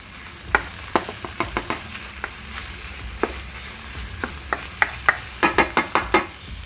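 Thai curry paste for a beef offal jungle curry sizzles over medium heat, with a slow series of crisp spoon taps and scrapes that cluster into quick strokes toward the end.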